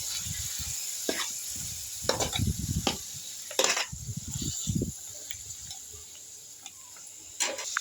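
Mutton curry being mixed with spices: continuous wet, squelching stirring with irregular thicker bursts of churning and a steady hiss underneath, close and fairly loud.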